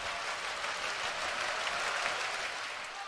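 A crowd claps in an arena during the 2022 DIII men's volleyball national championship between Carthage and Springfield. The dense, even applause holds at a steady loudness for the whole moment.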